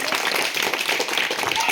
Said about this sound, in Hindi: तालियां हो जाए माता बहनों।